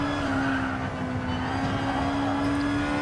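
A 2016 Nissan GT-R Gr.2 race car in GT Sport at Suzuka drones steadily under throttle as the turbo boost builds, a constant engine tone with faint tire scrub throughout.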